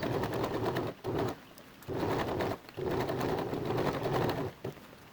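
Domestic sewing machine stitching the full length of a denim side seam, running in steady bursts of about a second with short pauses between runs, close and fairly loud with no talking.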